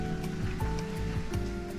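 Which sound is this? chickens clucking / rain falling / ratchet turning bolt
rain falling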